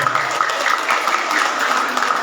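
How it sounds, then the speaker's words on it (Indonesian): An audience applauds at a Maulid Nabi gathering, a loud, even wash of many hands clapping that holds steady throughout without talk over it. "Kita berikan tepuk tangan buat Pak Haji Santoso."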